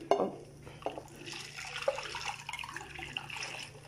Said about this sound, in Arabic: درت فيها ديجا الماء سخون. فوالا هانتوما الماء سخون، غادي نحط فيها اللاطه